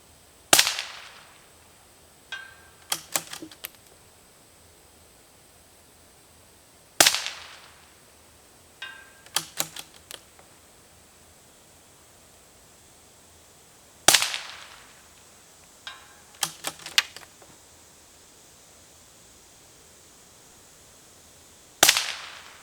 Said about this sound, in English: that was all 20 rounds on target at 300 yards with what some consider as like a lesser precision 22 LR rifle